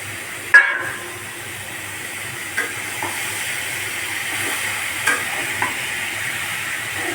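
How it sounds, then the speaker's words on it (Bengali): A soft, steady sizzle of vegetables frying in oil, with a sharp clatter near the start and several lighter scraping stirs. "তেলের ভিতরে ছেড়ে দেওয়া হচ্ছে সবজিগুলো ভাজা ভাজা হয়ে গেলে"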